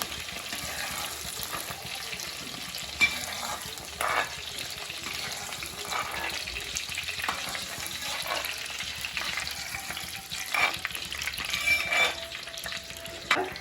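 Ingredients fry in oil in a pan for a fish curry, giving a continuous close sizzle with occasional stirring scrapes and clatters and no voices.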